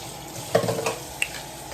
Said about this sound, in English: let me rinse it out so it's not just like milk all over